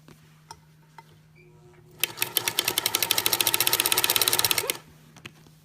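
A sewing machine runs a fast, steady burst of stitching through a knitted steek, rattling rhythmically for about three seconds, close and loud, after a quiet start with a few faint clicks, then stopping.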